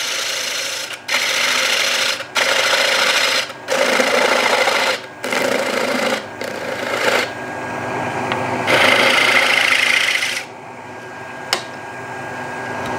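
A wood lathe cuts away the tenon on a bowl held in a vacuum chuck: a steady whirring cut broken into several short passes with brief pauses, then a lighter, quieter scraping near the end.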